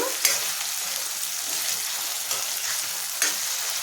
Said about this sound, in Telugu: అల్లం కూడా బాగా వేపించుకోవాలి.